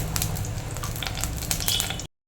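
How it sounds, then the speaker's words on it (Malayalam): Two spoons of ghee melting in a hot kadai for Kerala-style chakka varatti, giving a steady close sizzle and crackle that runs for about two seconds with no talk before stopping abruptly. "ഞാൻ ഒരു രണ്ട് സ്പൂൺ നെയ്യ് ഇട്ട് കൊടുക്കുന്നുണ്ട് നല്ലപോലെ ഒന്ന് ഉരുകി വരട്ടെ"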